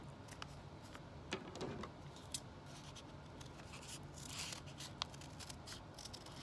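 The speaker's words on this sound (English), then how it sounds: "when you're cutting, the front of your scissors is not very good at cutting" Scissors snip through paper while cutting a wavy edge for a paper snowflake, a quiet indoor run of soft crisp cuts with a few sharper clicks spaced several seconds apart.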